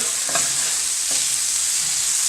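Onions and shrimp sizzling in hot olive oil give a constant bright hiss, broken by two spatula stirring scrapes near the start.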